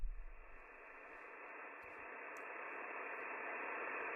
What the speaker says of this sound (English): this is some radio static from WebSDR.